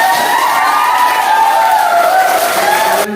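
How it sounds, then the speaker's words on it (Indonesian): An audience of young participants applauds and cheers after a group discussion session, steady dense clapping with shouting voices sustained throughout, close and loud. "saya persilakan kepada adik-adik sekalian atau peserta sekalian untuk aplaus"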